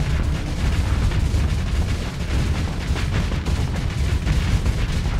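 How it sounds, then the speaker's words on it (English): Missile launches in a Starsector space battle rumble as a dense, continuous roar of booming launches and blasts, loud and sustained without pause. "Missiles away"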